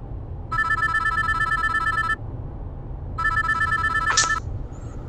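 A telephone rings with an incoming call: two loud, close bursts of a bright electronic ring, each lasting about two seconds, with a short pause between them over a low background hum.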